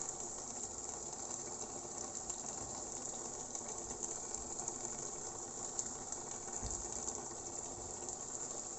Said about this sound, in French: J'ajoute l'huile rouge. Je vais mettre un demi-litre d'huile.